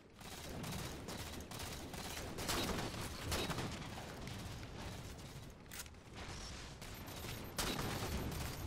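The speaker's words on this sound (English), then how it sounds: "Let's go with the sniper rifle." Gunfire from the Halo video game: dense, continuous shooting and explosive booms fill the mix at a low, muffled level, with a few louder blasts standing out.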